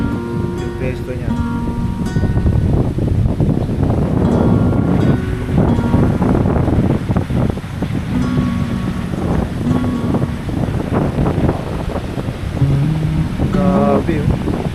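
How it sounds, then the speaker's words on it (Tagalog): Strong wind buffets the microphone by the sea at a San Juan, Batangas beach campsite, a steady loud rush with waves beneath throughout, while a voice talks intermittently. "sobrang hangin"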